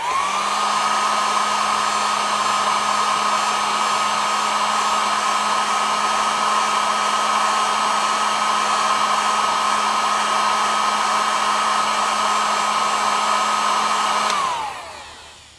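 A heat gun blows hot air onto the glue behind a badge on a new 2023 Toyota Tacoma. It gives a loud, steady whine and whoosh for about fourteen seconds, then spins down and stops.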